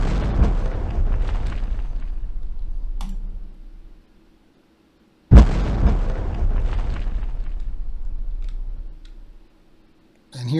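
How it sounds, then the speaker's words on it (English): Missiles fire and explode in a Unity 3D space shooter game, two loud bursts, each opening with a sharp blast and a rumbling roar that fades over about four seconds, with a quiet tone and a faint click between them. "We'll go ahead and fire some missiles"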